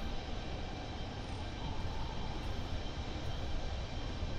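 Airbus A320 jet engines roar at full throttle in Microsoft Flight Simulator, a steady broadband rumble that holds at one level the whole time, with no talking.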